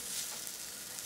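Koblre batter cooks on a pan with a soft, faint, even sizzle that holds steady for a brief moment with no voices.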